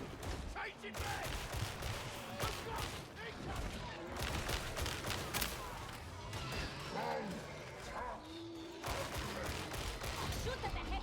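Dense game gunfire from the video game Darktide, rapid overlapping shots and crashes filling the mix continuously, with voices shouting over the din.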